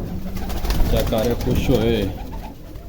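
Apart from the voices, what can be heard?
pigeons cooing while eating grain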